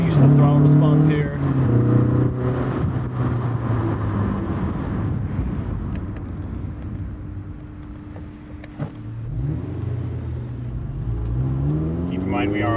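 Steady engine drone and road noise from a Honda S2000 AP1 on a night drive on dated all-season tires, rising and falling in pitch as the throttle opens, with a voice speaking over it.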